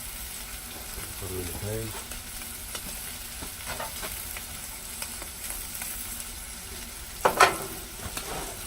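Mushrooms fry on a Blackstone griddle, a steady close sizzle with scraping and stirring clatter, a brief spoken word early on and a sharp clank near the end.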